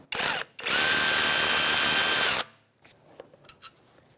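A cordless power tool whirs loudly on a 10mm mounting bolt holding the ABS sensor of a 2013-2018 Toyota RAV4, first a short burst, then a sustained spin of about two seconds, followed by faint clicks and handling noises.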